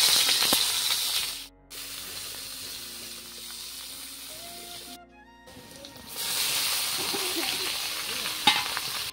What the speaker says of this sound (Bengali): এখন হচ্ছে ভারেলিটা সম্বাস দেব, সম্বাসে দেব পেঁয়াজ আর রসুন একসাথে।